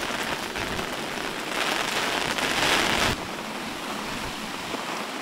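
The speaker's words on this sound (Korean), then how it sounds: "가을비가 내리는 염전." Steady autumn rain pours down over a seaside salt field, a dense continuous hiss that swells louder for a few seconds before settling back to an even, close downpour, with no voices.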